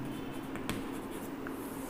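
Chalk or marker scratching on a board during a physics lecture on units and measurement, a steady faint scraping with one sharper tap, over a constant low room hum.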